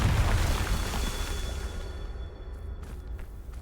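Confringo fire spell in Hogwarts Legacy going off as a loud, booming explosion with a rumbling roar that slowly fades, followed by a few softer whooshing bursts near the end.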